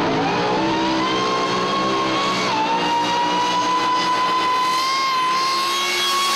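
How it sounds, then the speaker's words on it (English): A supercharged 1957 Chevrolet drag car at a nostalgia drag racing meet holds a loud, steady, high-pitched supercharger whine over a rough engine roar, close and continuous. "listen to the supercharger on Aussie drag legend Victor Bray's 57 Chev"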